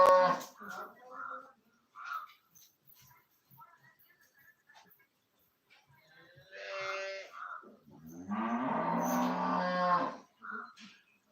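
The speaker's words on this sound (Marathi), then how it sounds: "वासरू लांब असल्यामुळे गायी जास्त जोरडती आहे" A cow bellows loudly and repeatedly because her calf is kept away from her, with long harmonic moos around 7 and 8 to 10 seconds and shorter calls earlier, heard close with little other sound.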